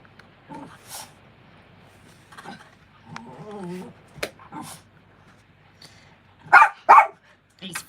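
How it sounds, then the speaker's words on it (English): Morgan, a playful five-year-old pet dog, gives a few short barks scattered through the clip, with two louder close barks near the end, amid quiet room noise. "Morgan, the killer dog, as you guys can hear"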